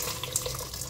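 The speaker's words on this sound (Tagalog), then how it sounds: "Lagyan na natin itong tubig." Water from a kitchen tap runs into a cooking pot for lentil soup, a brief, soft splashing stream heard alone and close.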